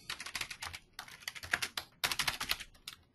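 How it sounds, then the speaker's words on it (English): Rapid bursts of typing on a computer keyboard, close and crisp, with irregular clattering keystrokes in several runs separated by brief pauses; no voices. "I'm having awful trouble typing today, aren't I?"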